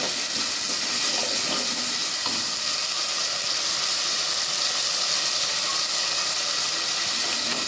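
Ground tomato sizzling with onion and garlic in a hot pan for anchovy fish curry, a steady loud frying hiss with faint stirring scrapes throughout, no voices.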